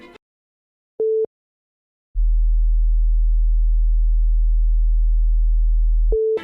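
A steady, deep 40 Hz low hum drones on for about four seconds between two short mid-pitched beeps, clean and electronic with nothing else present.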